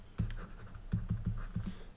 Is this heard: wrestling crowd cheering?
no